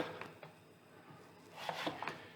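A kitchen knife cuts celery root into long sticks for chips, giving a handful of faint, close taps and scrapes on the cutting board.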